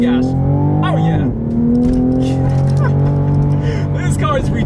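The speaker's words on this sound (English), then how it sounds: "let's see how quickly we can get this new 2020 Supra here up to speed" A 2020 Toyota GR Supra accelerating hard on an open straightaway, its engine note climbing steadily through the gears with a brief shift dip, loud and close from inside the cabin while a voice exclaims over it.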